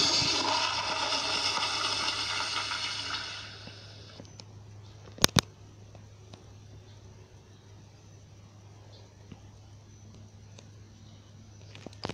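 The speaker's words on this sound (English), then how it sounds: "I'm gonna flush it one more time." A toilet flushes in Roblox, an American Standard Madera model, with a loud rushing whoosh of water that fades after about three seconds into a quiet hum with a couple of faint clicks.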